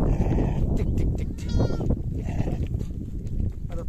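A ewe bleats beside her newborn lamb in a farm pen, with several short, wavering bleats at close range over rustling background noise.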